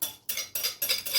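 Baba au rhum batter stirred in a bowl, four quick bright scraping strokes of utensil against the bowl in an even rhythm, close and clear, with no voices.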